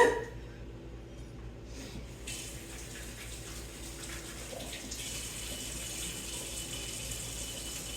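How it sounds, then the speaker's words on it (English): A kitchen water tap running steadily while hands are washed, a constant close splashing flow starting after a brief knock and lasting several seconds. "Let me wash my hands."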